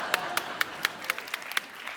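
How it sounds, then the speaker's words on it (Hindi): An audience breaks into clapping, with crisp separate claps at a brisk, slightly uneven pace, fairly moderate in volume and brief, in a comedy show setting. "तालियां!"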